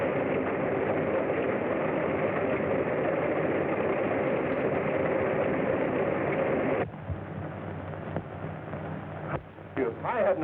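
An airplane engine drones loud and steady, then cuts off abruptly as it stops during landing, leaving a quieter rumble with faint voices and a few knocks, heard as muffled early-1930s film sound.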